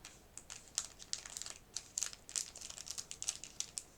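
Plastic packaging from a small Temu order crinkles and crackles in quick, irregular bursts as it is pried open, close and fairly quiet with no voices.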